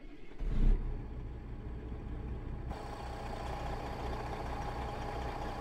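Kenworth W900 with a 500-horsepower Cummins ISX and 13-speed double-overdrive transmission in American Truck Simulator, a brief rev swell settling into a steady low diesel rumble that continues evenly on its own.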